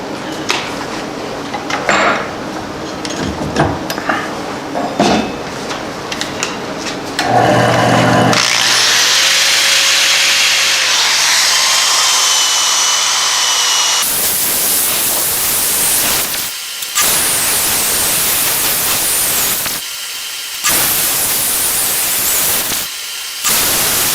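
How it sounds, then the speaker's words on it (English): A mesquite bowl spins on a woodturning lathe while 120-grit sandpaper is pressed against it, giving loud rushing sanding noise in several bursts separated by brief pauses, with the motor humming throughout. "All right, time to sand with 120."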